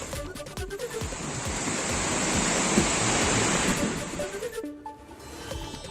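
Water roars steadily through six opened gates of the Hatnur dam in Jalgaon district, a broad, continuous rushing wash that swells slightly in the middle and holds loud throughout with no voices.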